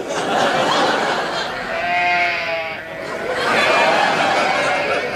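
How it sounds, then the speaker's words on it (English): Sheep bleating in a wavering, drawn-out call over a dense, noisy background, followed by further bleats toward the end. "Sheep."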